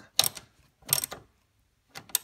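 Three short metallic ratcheting bursts, spaced apart, as shock absorber top nuts on a car's front air suspension are tightened by hand, close and quiet with silence between.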